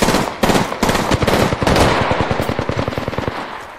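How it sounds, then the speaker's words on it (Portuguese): Rapid automatic weapon fire in Apex Legends rattles out in loud bursts, close and punchy, settling into a fast steady stream of shots toward the end. "Muito tiro."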